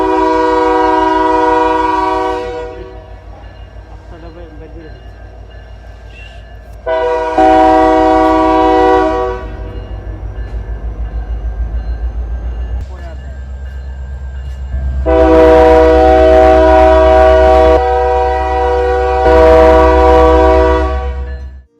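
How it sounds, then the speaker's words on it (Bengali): Several long, loud blasts of a train horn sound at a railway junction where multiple lines and a road cross, with a low rumble of rail traffic between the blasts. "এখান থেকে যখনই ট্রেনগুলি যায় একদম বেশ বড় হুইসেল দেয়"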